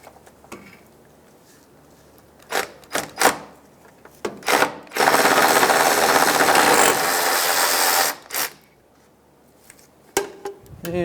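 A ratchet spins out a 10mm bolt on the fan assembly of a 2007-2015 Mazda CX-9 during A/C condenser work: scattered clicks and knocks, then a steady three-second whir of rapid ratcheting, close and fairly loud, followed by more taps.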